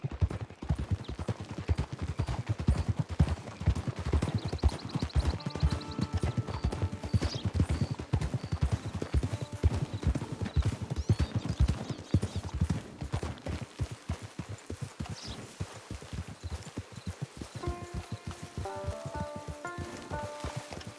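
Steady clip-clop of several horses' hooves continues throughout, dense and rhythmic, with occasional clinks and brief tonal sounds toward the end.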